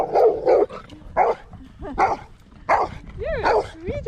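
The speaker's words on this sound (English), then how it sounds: "You're a good dog, aren't you?" A pet dog gives a run of short, close barks and yips, roughly six bursts over a few seconds with whiny, rising tones at the end. Nothing else competes with it.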